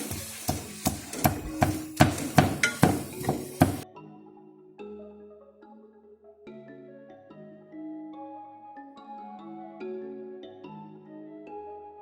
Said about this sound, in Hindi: और अब जो है ना वो हम इसको कुंडी में डाल के कूट लेंगे।